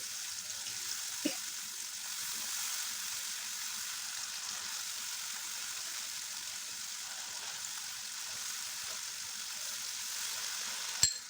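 Masala paste of ground melon seeds and cashews being sautéed in oil for papaya malai kofta, a faint, steady sizzle with a soft stir near the start and a clink at the very end.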